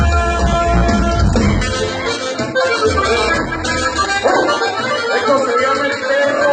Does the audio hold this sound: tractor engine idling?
no